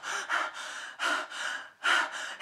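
A voice imitates panting while reading a Dutch children's story aloud, producing a series of quick, breathy gasps in irregular bursts, close and clear against silence.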